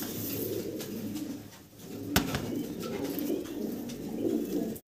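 A pair of big, red-geared Danish pigeons coos repeatedly, producing low, rolling coos that swell and fade over a steady noisy background, with no talking.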